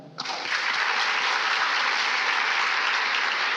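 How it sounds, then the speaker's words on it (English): At the YMCA Youth for Causes 2022 launch event, an audience breaks into applause. The clapping starts abruptly and holds as a loud, dense, even roar, with no speech over it. "A round of applause for them"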